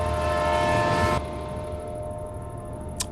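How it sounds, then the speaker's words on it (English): A small red diesel train in Bus Simulator 2018 passes with a steady mechanical drone and tonal hum, cutting off abruptly partway through, followed by a quieter background and a brief high blip near the end. "There only seems to be one type of train, which is this little red thing, this diesel thing."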